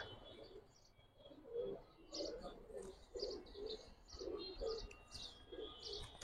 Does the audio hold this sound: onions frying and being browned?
no